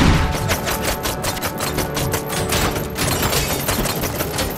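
Gunfire rattles through a firefight in Robocop: Rogue City during a bank heist, with rapid, dense bursts of shots and thumps going on without a pause for several seconds.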